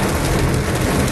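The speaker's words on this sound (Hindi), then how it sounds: "एकदम से काफी तेज बारिश स्टार्ट हुई।" Sudden heavy rain near a resort in Jim Corbett, a dense, even roar of downpour hissing on surfaces, loud and continuous with no voices.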